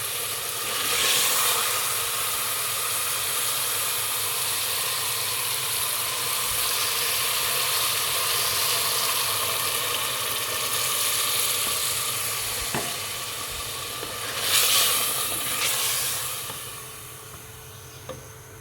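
A pressure cooker of aloo gosht with added water hisses and sizzles steadily as its contents boil, a continuous close steam noise with brief louder surges near the end.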